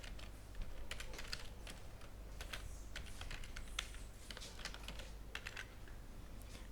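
Someone types a first name, last name and email address on a computer keyboard, giving faint, irregular key clicks over a steady low background hum.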